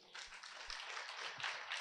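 A small audience claps briefly in agreement, a soft, quick patter of hands heard from a distance, steady for under two seconds without a loud ovation.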